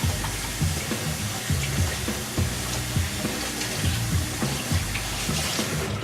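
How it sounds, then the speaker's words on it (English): Cold tap water runs steadily over raw shrimp in a strainer, a continuous close splashing rush with small knocks and clatters mixed in. "Just run it under cold water for about a couple seconds,"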